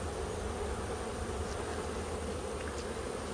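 Honey bees buzz around a beehive colony in a dense, continuous hum, close and steady, with a few individual bees droning past.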